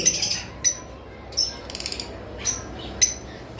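Green Fischer opaline lovebirds give short, sharp chirps in several separate bursts, close by, with quiet gaps between calls and no talking.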